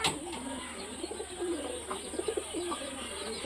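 High-flying pigeons of an old bloodline cooing close by, soft repeated throaty coos in short bursts over a faint background hiss.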